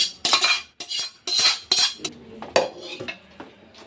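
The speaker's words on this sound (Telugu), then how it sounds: "ఇప్పుడు మిగిలిన గ్రేవీని కూడా ఇందులో వేసేసుకోవాలి" Metal spoon clinking and scraping against a biryani pot as leftover gravy is spooned in, several sharp close clanks in an irregular rhythm with no talking.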